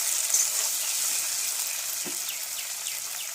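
Jackfruit pieces frying with spices in a pan for a curry give off a steady, moderately quiet hiss with no one speaking.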